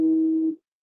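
A cell phone sounds a single electronic tone for an incoming call. The steady, clear beep lasts about half a second, then cuts off into silence, with no voices.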